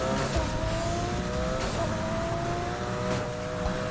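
A boxer-engined car in Need for Speed Heat revs continuously with a loud, rough engine drone and shifting pitch, with a few sharp transient pops.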